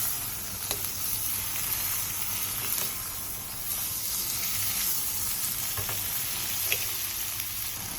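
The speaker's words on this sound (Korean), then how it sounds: "청양고추와 쪽파를 넣고 1분 정도 빠르게 볶아주세요." Cheongyang chili peppers and scallions stir-fried quickly in a hot pan, giving a steady close sizzle and crackle with occasional scrape and stir sounds, no talking.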